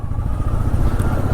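A motorcycle rumbling steadily at moderate speed along a clean but zigzagging hill road toward Mawlynnong village in Meghalaya, a close, continuous low engine drone with road and wind noise.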